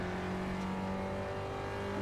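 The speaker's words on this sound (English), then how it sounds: "I was revving it too high and couldn't get it back in" A race car engine revs high and strained in a racing video game at Sebring after a missed gear, a steady loud buzzing whine that holds for two seconds without talk.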